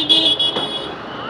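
Road traffic jam with a car horn tooting in short repeated blasts over the rumble of nearby vehicles, loud and close.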